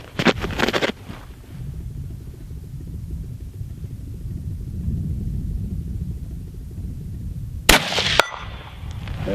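A .25-06 rifle bullet striking a steel target, sharp metallic clangs at the start and again near the end, separated by a long stretch of low outdoor rumble.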